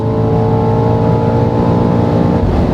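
A BMW XM Label Red SUV, a 2.7-ton hybrid, accelerating hard on the Autobahn, its engine droning loud and steady from inside the cabin as the revs climb through high speed.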